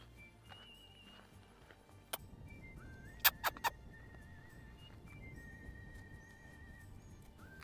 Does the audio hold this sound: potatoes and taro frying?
no